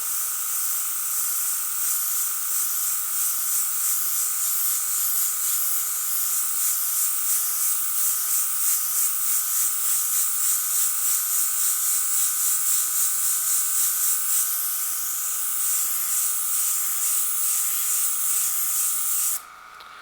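An airbrush sprays paint in a long, continuous hiss that stays steady and close for about twenty seconds, fogging color over a painted area, then cuts off abruptly at the end.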